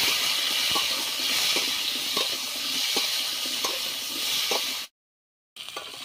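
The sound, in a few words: potatoes frying in a pan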